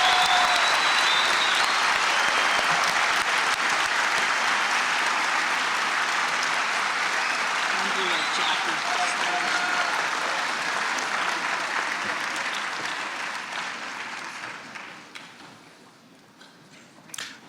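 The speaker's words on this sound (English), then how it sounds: "why don't we take this opportunity to applaud the graduates who've already crossed the stage" Sustained applause from a convocation audience honoring graduates at a spring morning ceremony, a dense steady wash of many hands clapping that thins and fades toward the end.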